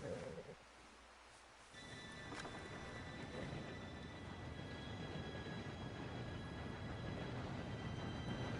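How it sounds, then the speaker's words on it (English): A train rolls in within the Red Dead Redemption 2 game world, a faint, steady low rumble that swells after a quiet start and holds as a continuous wash of noise. "Train should be here any minute."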